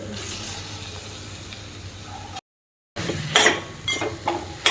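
Smashed boiled potatoes sizzling in a pan with turmeric and salt for aloo paratha filling, a steady fry hiss with a brief gap, then sharper scrapes and clinks of stirring.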